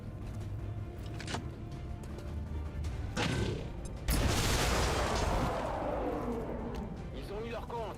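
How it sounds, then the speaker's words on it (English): An explosion in the XCOM 2: War of the Chosen strategy game erupts mid-clip, a loud crashing blast with scattering debris that decays over several seconds, following earlier sharp impacts, over continuous game background. "Explosion!"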